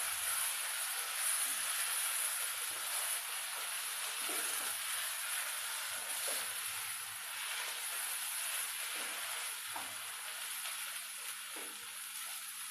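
Egg being stirred into beef in a frying pan for beef egg bhurji: a continuous sizzling hiss with soft scraping strokes at irregular intervals.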